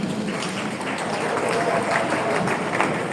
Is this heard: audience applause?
yes